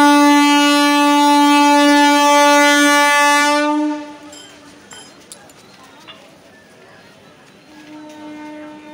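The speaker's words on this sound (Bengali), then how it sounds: "ট্রেন এই যে ছেড়ে দিয়েছে।" A departing train sounds a long, loud, steady horn for several seconds, then cuts off, leaving quieter rumble and station noise before a fainter horn tone returns near the end.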